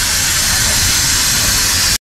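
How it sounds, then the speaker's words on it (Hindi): Loud, steady hiss of steam venting from the injector of an old Indian coal-fired steam locomotive, close by and continuous, then it stops abruptly. "ये देख सकते हो भाई कितना भाप निकल रहा है इधर से, ये इंजेक्टर है ना भाई"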